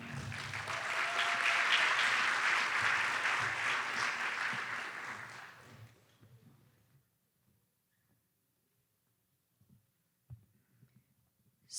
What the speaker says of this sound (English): So I noticed the modest applause